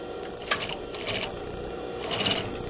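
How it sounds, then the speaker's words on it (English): A sewing machine stitches a dart tuck in fabric, with short bursts of rapid mechanical clatter separated by pauses, close and steady over a low motor hum. "turn at a right angle and stitch off your fold"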